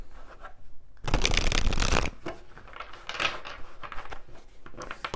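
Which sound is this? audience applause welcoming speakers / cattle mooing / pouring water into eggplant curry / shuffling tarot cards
shuffling tarot cards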